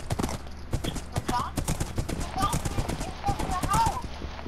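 Horse hooves clip-clop steadily in the Minecraft video game, a quick, close rhythm of hollow knocks running the whole time while players talk over the top.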